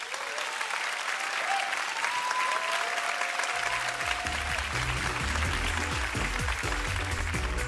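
Lecture audience clapping steadily and loudly throughout, a dense sustained round of applause from a large crowd, with a low musical tone entering partway through.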